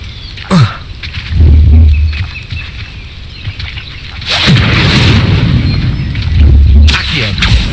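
An Incendio fire spell cast in Hogwarts Legacy produces sharp whooshing bursts and deep booming rumbles, loud and close, several spell impacts in sequence.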